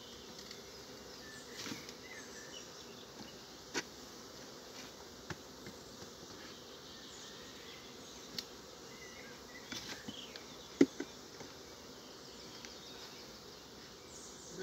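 Honey bees hum in a low, steady drone at an open hive during spring honey flow, with faint scattered insect buzzes and small knocks throughout, quiet and continuous with no voices.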